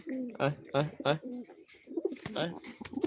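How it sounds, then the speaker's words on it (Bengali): A pigeon cooing close by, several throaty rolling coos in quick succession, with soft voices and a person calling to the bird mixed in. "এখন কবুতর কিন্তু হাতে চলে আসবে"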